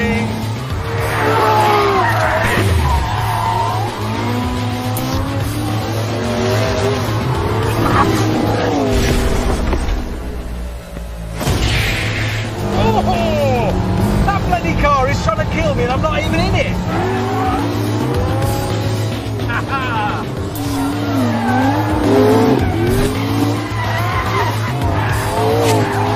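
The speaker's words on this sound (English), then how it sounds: "here comes May in the Ferrari" A Ferrari roars and skids with long squealing tyres and rising, falling engine revs, loud and close throughout, with a brief lull midway and voices talking over the noise.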